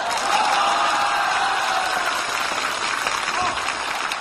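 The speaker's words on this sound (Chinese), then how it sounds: "此处有雷鸣般的掌声。" Thunderous applause from a live audience at a Chinese comedy sketch performance, a steady, loud wash of clapping that holds throughout without a break.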